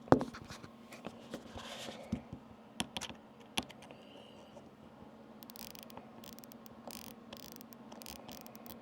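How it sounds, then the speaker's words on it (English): The elevation turret on a Cyelee CAT EDG rifle optic gives a series of sharp, close clicks at an uneven pace, fading into quieter faint ticks against a low background hum. "I'm gonna set my mic down here by the Optic and let you hear the clicks"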